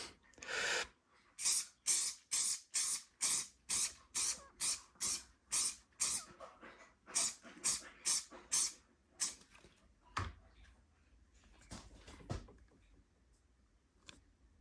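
Aerosol fixative spray can misting a finished oil pastel artwork in a studio, about fifteen quick, evenly spaced hissing bursts close to the microphone, then a pause with a few soft handling clicks and a louder breath-like hiss.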